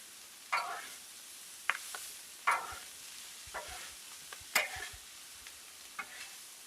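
Fried rice sizzles on a flat-top griddle beside venison and chicken kabobs, a quiet steady hiss broken by several sharp scrapes and taps of a spatula at irregular intervals.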